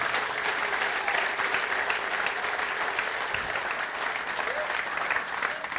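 A church congregation applauds during an anniversary sermon, a dense, steady wash of many hands clapping together for several seconds, fairly loud and continuous.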